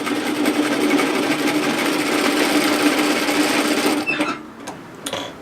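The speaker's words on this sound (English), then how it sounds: "I'm going to stitch directly through my overlocking line." A sewing machine stitches a hem straight through an overlocked seam line on a flounce beach wrap, running in a steady close whirring hum for about four seconds before stopping, followed by a few faint clicks.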